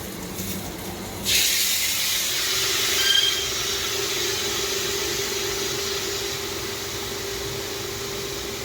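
Water hits a pan of frying potatoes and soybean and sets off a sudden loud sizzle. The sizzle settles into a steady, bright hiss that lasts for several seconds.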